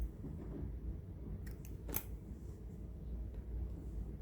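Scissors snipping crochet yarn while making a small crocheted turtle keychain, a couple of quick close, crisp snips over a quiet low background hum, with no talking.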